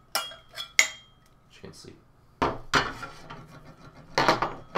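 Metal parts of a 1965 folding entrenching tool, a trench shovel, clink and clatter in several sharp, close knocks during assembly, with a bolt freshly freed, and someone speaking briefly between the impacts.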